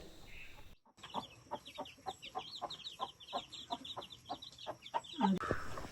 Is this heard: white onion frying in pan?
no